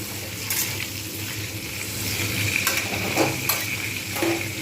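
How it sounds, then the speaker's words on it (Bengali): Paneer pieces frying in a pan until reddish, a continuous sizzle under repeated scraping and stirring strokes of a spatula with light clinks of metal against the pan. "ভালো করে লালচে করেই ভেজে নেব।"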